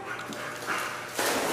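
A female shelter dog long awaiting adoption whimpers and gives short barks, fairly faint at first and then louder near the end, with no talk over it.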